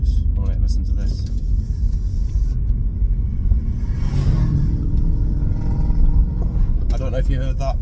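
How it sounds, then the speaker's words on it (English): A 1960s Ford Mustang drives past, a deep rumbling engine note that swells and fades under ongoing speech from a nearby person. "that was a Mustang just gone by, 1960s"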